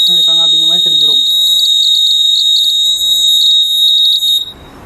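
Anti-suicide ceiling fan safety system sounding its buzzer alarm, a loud, continuous high-pitched electronic tone held for about four seconds before cutting off, with a person speaking briefly at the start.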